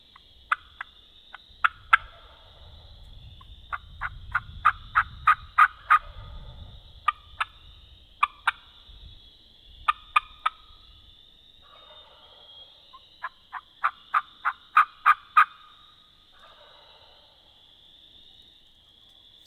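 A wild turkey gobbles in answer to hunting calls during a Minnesota spring hunt, its sharp rattling gobbles coming in several bursts at middle distance, with faint insect or frog chatter and low rumble beneath, no talking.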